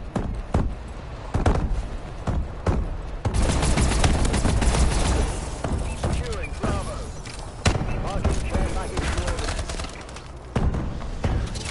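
Shotgun blasts and dense battlefield gunfire in Call of Duty: Advanced Warfare, a steady barrage of loud repeated shots and thuds with enemy walker tanks in the mix, continuous throughout.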